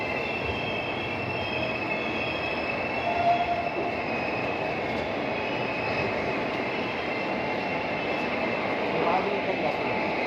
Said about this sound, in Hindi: सामने लगी हुई है बरेली से चलकर प्रयागराज संगम को जाने वाली नौचंदी एक्सप्रेस।